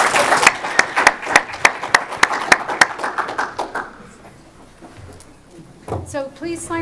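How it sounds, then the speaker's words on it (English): An audience at a sports governance conference claps loudly in a burst of applause for six speakers that fades after a few seconds; a voice then speaks briefly over the quiet room. "Give these six speakers an applause before coffee."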